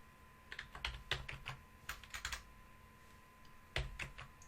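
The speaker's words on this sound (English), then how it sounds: "my typing's gone all over the place" Quick bursts of clicking keys on a computer keyboard, in irregular clusters with short pauses, close and fairly quiet.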